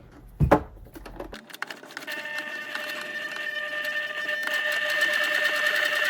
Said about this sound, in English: So edge stitching is done, and now the top stitching begins.